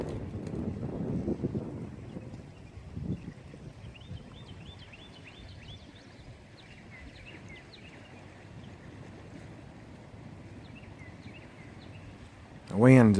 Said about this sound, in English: Windy this morning.